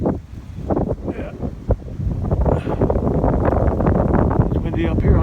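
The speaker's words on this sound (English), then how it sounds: "That wind is pretty strong." Strong, cold wind on a hilltop buffets the microphone in a steady low roar, with a voice talking faintly underneath.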